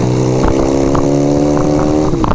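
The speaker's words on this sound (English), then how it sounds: "A lot of motorcycles out riding today." A motorcycle engine hums steadily while riding on a road, heard up close from the rider's position, its drone rising and falling slightly with a few revs over a couple of seconds.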